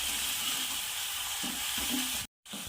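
Tomatoes added to a spice paste of cumin and ginger frying in a pan for a flat bean dish give a steady loud sizzle, with a few soft stirring knocks and a brief cut near the end.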